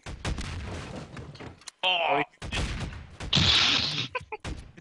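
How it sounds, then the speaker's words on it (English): Ship cannons fire during a Garry's Mod pirate ship battle, with loud bursts between a shouted exclamation and ongoing excited talk. "Fire the cannons."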